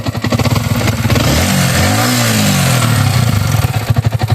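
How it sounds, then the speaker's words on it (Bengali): A Yamaha motorcycle engine runs close by, idling with a throbbing pulse before revving up in a rising then falling sweep and settling back to a steady idle. "দেখতে পাচ্ছেন বাইকটি স্টার্ট করা আছে"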